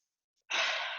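A single quick, deep breath is drawn in and let out through the mouth during a breathing exercise, a close, soft airy rush that follows a moment of silence.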